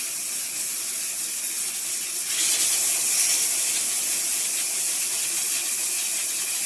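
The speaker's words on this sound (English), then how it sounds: "And now the shower tap." Water gushing from a shower tap in the bathroom of a Swift Elegance 480 caravan, a steady close hissing spray that swells louder after two seconds and keeps running without talk.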